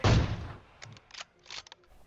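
Video game gunfire in PUBG Mobile: one loud booming shot up front, then several short bursts of quicker, lighter shots trailing off, with no voices.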